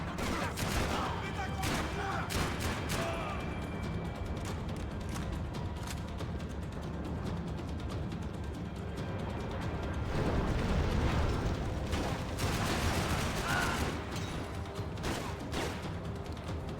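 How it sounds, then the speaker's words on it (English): Rapid gunfire from the game Max Payne 3, dense bursts of shots and explosive booms filling the whole stretch, loud and continuous with scattered louder blasts. "Who is shooting me?"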